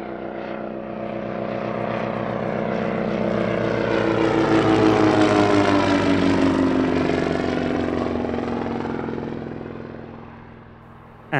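A vintage propeller aircraft at the Shuttleworth airshow drones overhead, its engine swelling louder as it passes close and then fading away, with no talk.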